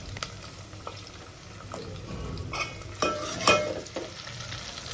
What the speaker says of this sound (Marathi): कांदा मस्त परतला की लगेचच मग टोमॅटो टाकून घ्यायचे आणि टोमॅटोसुद्धा खूप छान परतून द्यायचे